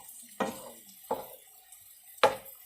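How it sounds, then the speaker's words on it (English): Turkey mince browning in a pan for stir-fried turkey noodles, with three distinct scraping stirs of a utensil against the pan over a faint low sizzle, close and otherwise quiet. "we continue with just browning this turkey."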